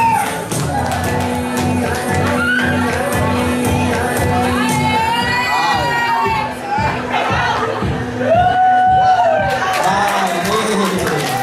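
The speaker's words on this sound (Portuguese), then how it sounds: "Palmas para participante número 5." A school blind-date show audience claps and cheers for a contestant, lively crowd chatter and shouts with rhythmic clapping throughout, mixed with amplified talk and squealing voices.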